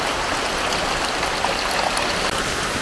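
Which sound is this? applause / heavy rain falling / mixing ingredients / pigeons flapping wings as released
heavy rain falling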